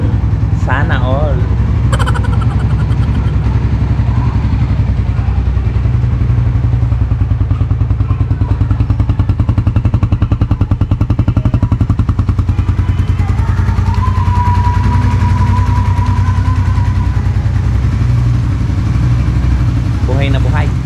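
A 2023 Suzuki Raider FI 150 motorcycle engine idles close by at a dealership release, a loud, steady low rumble with rapid firing pulses and occasional clatter, while people talk in the background.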